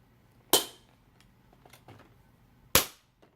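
The metal binder rings of a Franklin Quest desk planner snap shut twice, giving two sharp, loud, close cracks about two seconds apart. Faint handling rustle sits between them.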